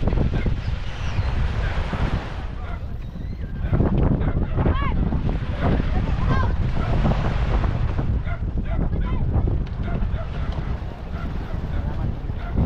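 Steady wind blustering across the microphone, rumbling low and constant, with voices and chatter mixed underneath.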